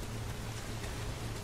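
Rain falls steadily in the video game Nioh, a soft, even hiss of noise with a low hum underneath. It is faint and constant throughout, with no talk.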